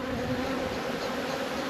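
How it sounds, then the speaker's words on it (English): Honey bees buzz steadily around an opened nuc box in windy weather, a dense continuous drone close to the microphone with no speech. "The bees are not happy to see me"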